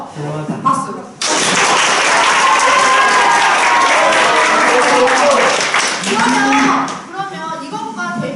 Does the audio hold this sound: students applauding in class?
yes